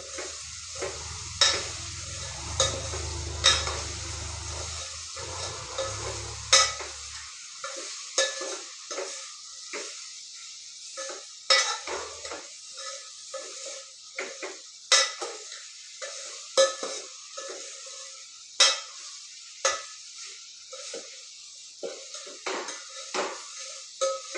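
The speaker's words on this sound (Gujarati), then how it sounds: "હવે બરાબર મિક્સ કરી લઈએ લસણને" Garlic sizzling softly in a pan for a kankoda (spiny gourd) curry, with repeated sharp clinks and scrapes of a spoon stirring, close and intermittent over a faint steady fry.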